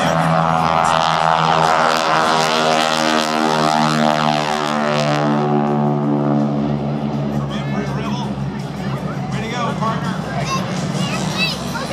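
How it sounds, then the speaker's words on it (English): A formation of three aircraft flies past at an air show, a loud, steady engine roar that shifts in pitch as they pass, with crowd chatter underneath. "formation of the first three aircraft"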